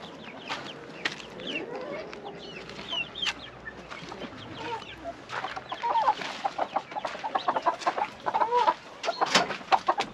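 Tokat-breed chickens and other fowl cluck and chatter in a hobby coop in Kastamonu's Taşköprü during cold weather, a busy overlapping flock close by, with short calls growing louder and denser toward the end.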